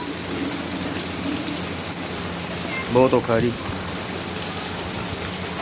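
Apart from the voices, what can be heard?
heavy rain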